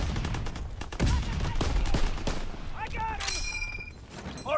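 Rapid automatic gunfire from Call of Duty: World War 2 using the Waffe 28, bursts of loud close shots with booming tails and game effects, with some talk underneath.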